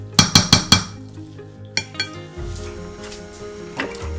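Tuna and cabbage pancake batter is stirred in a bowl, with a quick run of four sharp clinks of utensil against the dish, a pause, then more scattered taps and scraping.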